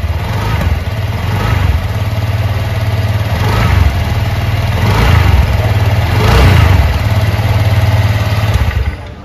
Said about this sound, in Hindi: इसको अगर आप स्टार्ट करोगे तो साउंड मैं आपको एक बार सुनाता हूँ। इसमें आपको साइलेंट स्टार्ट मिल जाता है और ऐसा कुछ साउंड मिलता है यहाँ पर।